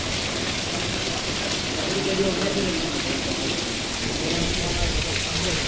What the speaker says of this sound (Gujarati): જોરદાર વરસાદ શરૂ તળાજા